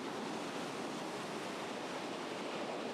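Ocean surf on New Zealand's West Coast roars as a steady, dense wash of breaking waves, loud and continuous with no voices over it.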